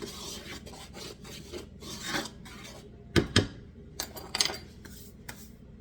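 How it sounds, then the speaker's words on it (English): Biscuit ingredients for Guinness bacon biscuits are stirred in a bowl, giving quiet scraping and rubbing strokes with a few sharper knocks against the bowl near the middle. "I'm just stirring it around."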